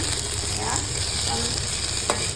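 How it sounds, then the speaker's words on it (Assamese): Okra frying in a pan is stirred gently, steady loud sizzling throughout with soft scraping strokes of a spoon and a brief clink near the end. "ভেন্দিখিনি যাতে ভাজি নাযায় তাৰ কাৰণে একদম লাহে লাহে লৰাই দিব"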